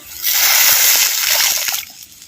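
Plain water is poured into a pan of country chicken gravy masala in a steady, splashing gush for about a second and a half, then stops abruptly. It is close, with no talk.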